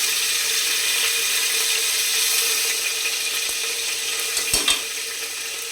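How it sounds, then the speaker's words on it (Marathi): Cumin and garlic paste sizzle steadily in about two spoonfuls of hot oil while mutton soup is being started, a constant close hiss with a couple of brief clinks near the end. "त्यासाठी मी तेल गरम करत ठेवले 2 चमचे. त्यामध्ये थोडं जिरं घालूया. लसूणची पेस्ट टाकूया."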